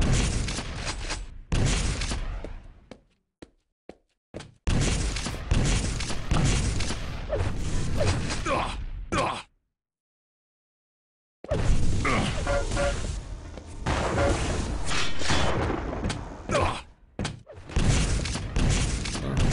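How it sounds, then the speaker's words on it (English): Rapid bursts of rocket launcher fire in a Quake duel, dense thumping blasts and explosions piling up loud and close, with a short silent gap midway before the barrage resumes. "Pushes a lot of rockets into Clawz's face"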